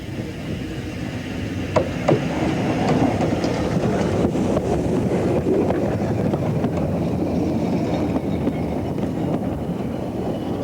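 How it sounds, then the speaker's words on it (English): A double Fairlie steam locomotive hauls a train on the narrow-gauge Ffestiniog Railway, with a continuous rolling rumble and rattle and occasional sharp clicks of wheels over rail joints, heard steadily and fairly close. "Thus was born the famous double Fairley, a single locomotive with 2 engine units mounted on bogies"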